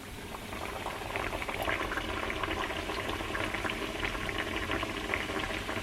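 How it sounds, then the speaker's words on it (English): Caribbean johnny cake dough fries in hot oil with a dense, steady bubbling sizzle that swells slightly after the first second and stays loud and close. "So I really think my oil is hot enough, so I'm gonna start to fry them, or at least I'm gonna try one."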